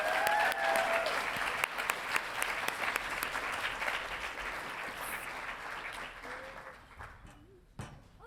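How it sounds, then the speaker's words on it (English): Audience applause at an end-of-year celebration as a speaker is welcomed to the stage, a steady wash of clapping from a crowd that gradually thins and fades toward the end, with faint voices mixed in. "So please give a round of applause"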